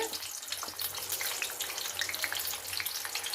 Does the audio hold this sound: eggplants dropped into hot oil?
yes